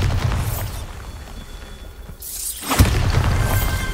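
A Bombarda blasting spell goes off in Hogwarts Legacy: a short rush of rising noise breaks into a loud, sharp boom with a shattering crack, followed by a lingering rumble of debris.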